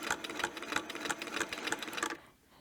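A sewing machine stitching a quilting design with a ruler foot: a close, fast rhythmic mechanical whir with regular needle clicks, stopping abruptly near the end.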